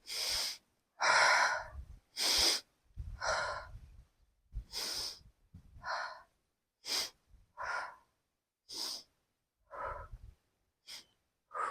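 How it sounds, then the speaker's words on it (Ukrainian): Deep, forceful breaths in and out during an exercise routine, each inhale and exhale a distinct airy burst separated by short silences, close and fairly loud, repeating steadily. "Робимо 10 разів вдих, видих."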